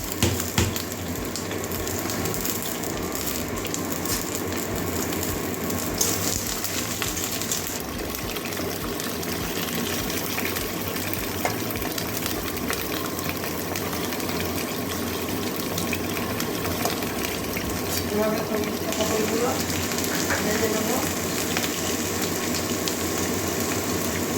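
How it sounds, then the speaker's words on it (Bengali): Pointed gourd (potol) fries in hot mustard oil, a continuous close sizzle and bubbling that runs for the full stretch with slight swells, nobody speaking. "ওগুলো সব ভাজা করে নেবো"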